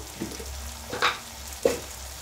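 Food being sautéed and stirred in a pan over raised heat, a steady low sizzle broken by three short scraping stir sounds, with no voices.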